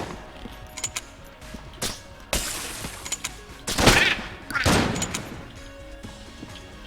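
Gunfire in the top-down shooter Enter the Gungeon comes in quick bursts and single shots, with bright crackling blasts rising over a quieter bed of game effects.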